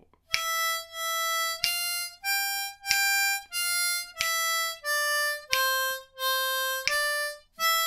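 A harmonica plays both lines of Beethoven's Ode to Joy together, a steady sequence of distinct bright reedy notes in even rhythm, close and with no voices.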